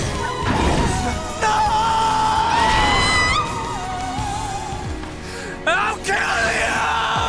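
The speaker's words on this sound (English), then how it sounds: "First of all, amazing scream, bro." A woman's shrill, rising scream cuts through a Xenoblade Chronicles cutscene amid crashes, impacts and dramatic orchestral music, with further sharp screeches near the end.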